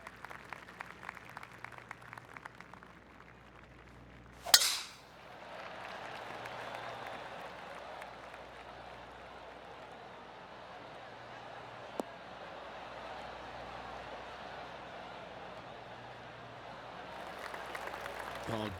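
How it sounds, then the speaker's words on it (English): Applause at a golf tournament breaks out after a tee shot and settles into a sustained, moderately loud spread of clapping from a gallery, after a brief sharp burst, with commentators talking beforehand. "Oh, golf clap."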